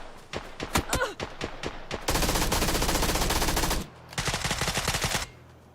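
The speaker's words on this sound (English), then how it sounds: "You gotta reload that AR, Jin." An AR rifle fires in the video game PUBG: sharp close single shots, then a long sustained burst of fully automatic fire, a short break, and another rapid burst, all loud and unbroken by talk.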